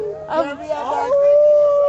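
People at a late-night street gathering howl at the full moon, voices imitating wolves: a brief cluster of wavering cries followed by a steady rising howl, close and loud.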